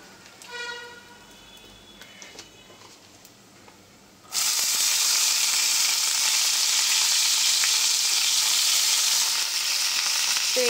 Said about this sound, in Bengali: এবার পেঁয়াজ ফোড়ন দিয়ে দেবো।